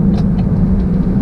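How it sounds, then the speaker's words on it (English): A truck rolls slowly along a road ahead, heard as a steady low engine rumble and road noise with faint ticking sounds overhead. "This truck's going way too slow."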